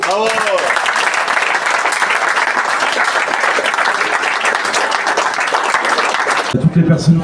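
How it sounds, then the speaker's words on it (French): Sustained crowd applause at a municipal bouillabaisse gathering in Saint-Mandrier, dense steady clapping lasting several seconds before cutting off abruptly, followed by a brief quieter moment. "donc on va encore une fois les applaudir."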